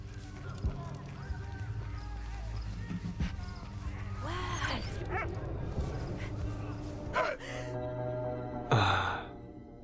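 A dog barks and yips repeatedly in the World War I video game Valiant Hearts, mixed with in-game sighs and gasps over a game soundtrack, fairly loud and near.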